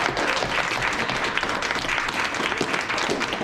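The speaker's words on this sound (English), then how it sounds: "Another round of applause." An audience at a play-reading event claps steadily, a dense, even wash of applause from many hands that holds at the same loud level throughout, close and unbroken.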